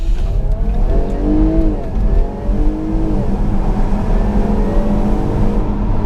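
A car engine revs and accelerates up through the gears, pitch rising and falling, loud and close with no talking.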